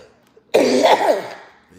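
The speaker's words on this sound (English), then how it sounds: "That cough don't sound too healthy." A single harsh cough or throat-clearing bursts out about halfway through, loud and close, then trails off into quiet.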